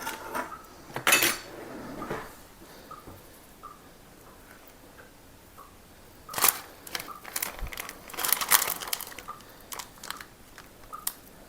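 Metal knife clattering and clinking among kitchen utensils and dishes in a drawer, with several sharp rattling bursts near the start and again later, separated by quieter handling noise, while preparing a chocolate and custard layered dessert.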